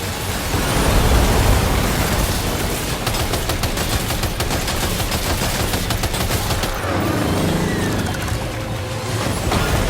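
Weapons in Death Stranding 2 firing in sustained loud automatic bursts, a dense rattling barrage that runs nearly the whole time, briefly thinning before resuming heavily.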